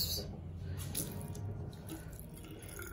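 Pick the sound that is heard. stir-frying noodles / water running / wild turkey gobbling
water running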